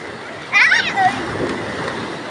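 Bathers in a rural province setting splash water in a brief burst near the start, with children's voices mixed in over a low watery background.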